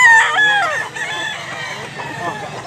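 Roosters crow and hens cluck at a busy chicken market in Mantalungon, Cebu, a loud crow opening the clip with ongoing clucking and market chatter close by.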